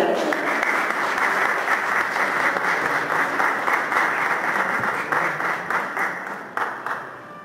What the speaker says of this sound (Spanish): Un aplauso para José Alberto.